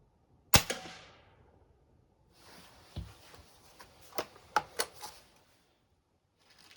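A Norica Omnia ZRS air rifle firing at a 20-yard target, one sharp crack near the start followed by a cluster of lighter snaps and clicks, close and crisp in a quiet setting.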